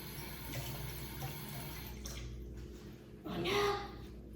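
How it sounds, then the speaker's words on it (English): Kitchen tap water gushing into a sink as an item is rinsed, a steady low rush that swells into a louder splash near the end, with a faint voice in the background. "So I'm going to rinse this."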